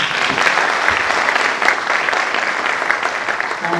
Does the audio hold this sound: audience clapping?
yes